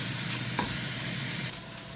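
Butternut squash roasting in a pan, a steady sizzle with a soft scrape of stirring, dropping slightly in loudness near the end.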